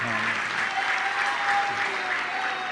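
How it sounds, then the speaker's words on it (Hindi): An audience claps steadily in a dense, sustained wash at a Jain religious discourse with Praman Sagar Ji Maharaj, filling the whole stretch at an even level. "तुम लोग तालियां बजा रहे हो"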